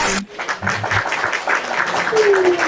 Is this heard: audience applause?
yes